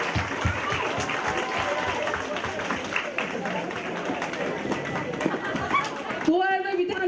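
Hall audience at a Tatar solidarity evening gives moderate applause mixed with chatter and voices, ending as a speaker begins talking.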